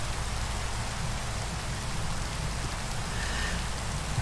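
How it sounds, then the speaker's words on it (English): Steady rain falls in Minecraft, a dense, continuous hiss of drops on surfaces that holds even and close throughout with no voices over it. "the rain sucks"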